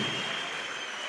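Agricultural development workers at a training ceremony in Central Ethiopia clap for themselves. The soft, distant, uniform patter of many hands carries steadily throughout without speech.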